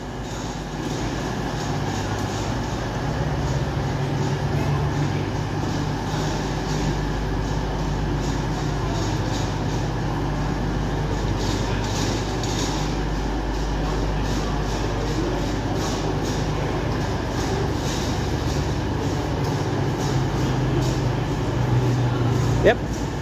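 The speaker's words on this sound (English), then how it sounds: "Passing is a 2050 East Midlands Railway service to London St Pancras." An East Midlands Railway passenger train passes through Nottingham station, giving a steady, loud rumble with low engine drone that holds for the whole stretch and swells slightly near the end.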